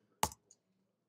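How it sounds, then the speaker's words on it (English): The return key on a computer keyboard is pressed once, a single sharp close click followed by a faint tick, in an otherwise quiet room. "Hit return."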